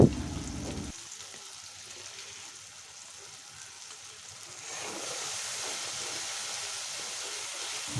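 Garlic paste frying in oil with melted tomato for a sweet potato and dried Bombay duck curry, giving a steady soft sizzle under a faint hiss, louder in the second half.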